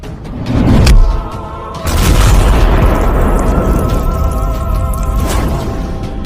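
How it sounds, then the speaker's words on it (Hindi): A loud crashing impact with a heavy boom as a kicked car crashes and catches fire, followed by a sustained roaring, crackling rumble that slowly fades, with a second burst near the end. "कार पर एक जोरदार लात मारता है और उसे दूर फेंक देता है"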